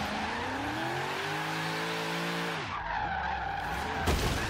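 Loud Chevrolet Corvette Z06 drag-build engine in Forza Horizon 3 revving hard through third gear, then dropping off as tires squeal and skid, with a rough rumble continuing afterward.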